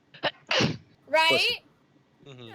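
A sharp, close sneeze from someone at a tabletop role-playing game session bursts out between short bits of casual talk, with a breathy intake just before it.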